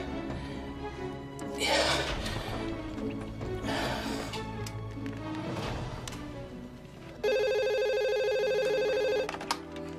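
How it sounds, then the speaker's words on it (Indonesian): A phone's ringing tone plays for about two seconds near the end of a quiet indoor drama scene while a caller places an outgoing call. It is a steady, bright, electronic tone after softer background sounds. "Apa aku telepon Bu Anggi aja ya?"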